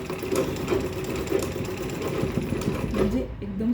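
A sewing machine stitches fabric for a small girl's purse, running with a close, steady mechanical whir and rapid needle chatter throughout.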